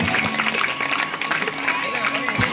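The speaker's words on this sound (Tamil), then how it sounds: "உற்சாகப்படுத்தும் முகமாக கைகளை தட்டி ஆரவாரம் செய்வோம்." Audience clapping and cheering at a children's sports exhibition in post-war Sri Lanka, a steady, dense wash of applause and crowd noise holding at a constant level throughout.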